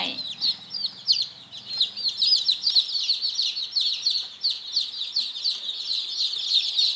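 Young Burmese-Brazilian fighting chickens in a flock, giving a dense, continuous stream of high peeping chirps, with a low voice briefly audible at the start.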